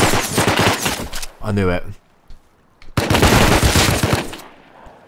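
Bursts of gunfire from the video game Rust crackle loudly around a person talking, with a short buzzing rattle mid-clip before more loud talk and shooting resumes.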